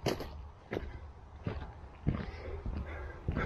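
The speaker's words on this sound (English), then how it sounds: "There's the dogs." A dog gives several soft, short whimpering noises and breathy sounds close by, spaced irregularly, with faint movement in the background.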